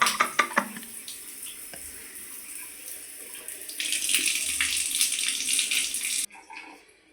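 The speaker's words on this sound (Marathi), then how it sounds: "आता शावरचं पाणी कुठून पडतंय." Water from a home shower spraying steadily nearby, a broadband hiss that grows stronger midway, then cuts off abruptly near the end, leaving quiet room sound.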